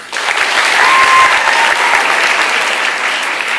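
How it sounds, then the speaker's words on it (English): A room full of girls applauding themselves at a gathering, loud close clapping from a sizable crowd that swells quickly and stays full throughout. "So give yourself a round of applause."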